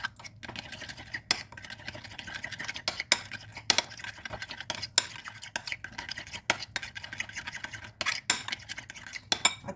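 Shawarma meat being mixed with salt and black pepper in a bowl, giving soft squishing and irregular clicking scrapes of a utensil against the dish, close and moderately quiet, with no talking.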